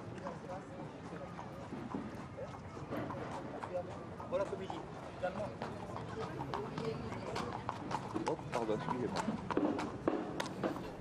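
Horse trotting in a French harness race: faint, rapid clip-clop of hooves on the track, carried under continuous race commentary that dominates the foreground.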